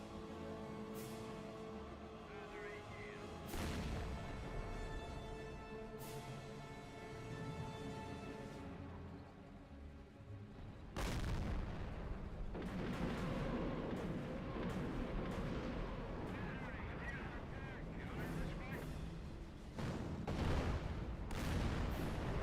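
Heavy artillery barrages and explosions in a World War II war video game, repeated booming blasts and rumbling impacts rolling on continuously, fairly loud with no talk.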